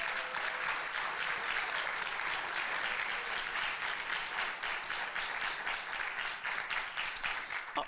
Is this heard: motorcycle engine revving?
no